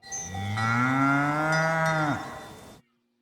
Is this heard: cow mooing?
yes